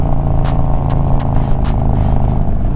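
Harley-Davidson motorcycle cruising Texas back roads in third or fourth gear, front end on heavier fork oil, a steady close low engine rumble with wind rush and faint repeated ticks, no talk.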